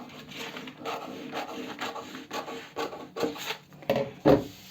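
Scissors cut through a paper dress pattern base in a run of short, steady snips and rasping slides, close and fairly quiet, with a couple of sharper crunches near the end.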